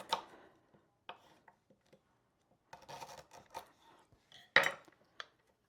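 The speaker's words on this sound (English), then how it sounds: "we're not going to shred this ginger or anything like that. We're going to cut it into coins." A knife cuts ginger into coins on a board, giving sparse, quiet taps and clacks with a few sharper knocks and gaps of near silence between them.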